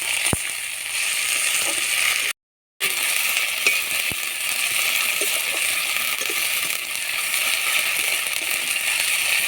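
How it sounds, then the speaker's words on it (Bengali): Garlic paste and ginger paste fry together with onion in a pan for a dry cabbage dish, giving a steady close hiss of sizzling broken by a brief silent gap and a few light clicks. "দিয়ে দেবো রসুন বাটা, আদা বাটা একসাথে দিয়ে ভেজে নেব।"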